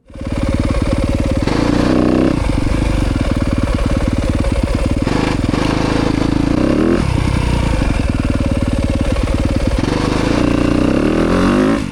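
A 2025 Yamaha YZ250FX motorcycle with a Rekluse clutch basket makes repeated second-gear starts: loud, close engine revving and accelerating with a juddering, stuttering pulse as the clutch engages, throughout the whole stretch.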